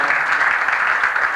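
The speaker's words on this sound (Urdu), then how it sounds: "آپ تالیاں بجائیں گے" Audience applause at an Eid Millan party for Balochi film artists, a steady dense clapping from many hands, loud and continuous throughout with no pauses.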